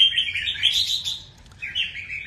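A pet songbird chirps and warbles in bright, continuous phrases, close and fairly loud, with a short dip near the middle before the song resumes.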